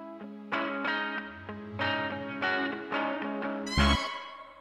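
Distorted electric guitars ring out in sustained chords with a steady rhythmic pulse, loud and layered, ending in a sharp crash.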